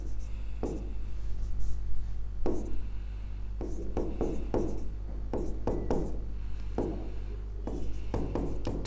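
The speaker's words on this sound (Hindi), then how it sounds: "मैं यहां लिख देता हूं" A hand writes a word on a board, leaving short scratchy strokes in uneven bursts over a steady low hum, with someone talking throughout.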